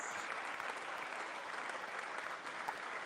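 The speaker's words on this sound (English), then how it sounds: "Can we also just have a huge round of applause for Tom?" Sustained audience applause at a football awards evening, even and continuous clapping from a crowd at a distance, quiet overall with no gaps.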